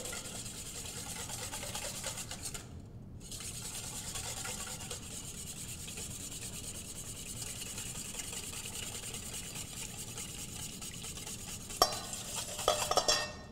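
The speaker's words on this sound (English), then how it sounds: "So while I'm whisking, I'm going to add my olive oil." A whisk scrapes and rubs around a bowl as olive oil goes into a salad dressing made with minced shallots. The steady swishing lasts throughout, with a few louder clinks near the end and no talk.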